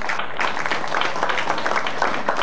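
A political gathering's audience applauds an honoured speaker in a dense, continuous round of clapping heard throughout, filling the room evenly with little talk.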